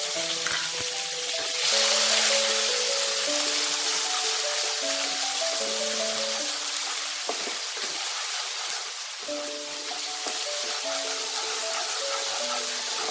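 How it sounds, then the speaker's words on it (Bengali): Ginger paste sizzles and fries steadily in a pan while spices cook for a Bengali mixed vegetable curry, a continuous close hiss under soft background music. "আদাটা কাঁচা গন্ধটা যতক্ষণ না যাবে আমি এটাকে ভেজে নেব।"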